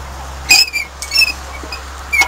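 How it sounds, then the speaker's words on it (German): Short, sharp squeaks come in three bursts over a low steady hum, each a thin high-pitched creak, joked to be a person's elbow joint, with no talk. "Es dürfte das linke Ellbogengelenk sein, was da quietscht."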